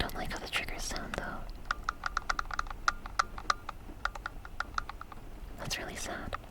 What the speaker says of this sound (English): I really don't like how the triggers sound though.